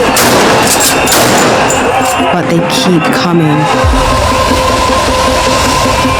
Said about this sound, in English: Tear gas and rubber bullets hound the protesters